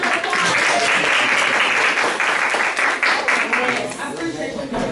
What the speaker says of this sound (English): let's give Officer Crowley a big round of applause